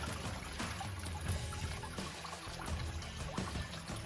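Creek water trickles and pours into small underground tunnels along a hiking trail, a steady, close, bubbling flow with soft splashes throughout and no speech.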